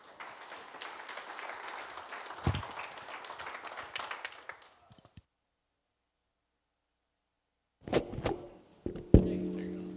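Audience applause at a talk on Santa Fe watershed water and fire management, a room of clapping for several seconds that cuts off abruptly, followed after silence by thumps and brief speech.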